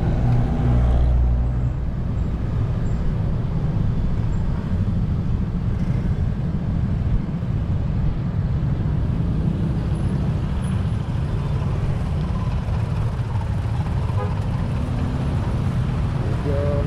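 Road traffic rumbles steadily along a shortcut route toward Macapagal Boulevard via Zapote River Drive in Manila, a dense low engine drone with a brief louder vehicle pass at the start.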